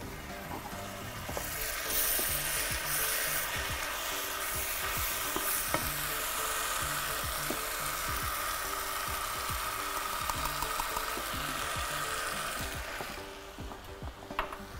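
Chicken sautéed with turmeric, curry and parsley in a pan, stirred continuously: steady close frying sizzle with repeated scraping, clacking stirs throughout, no talk.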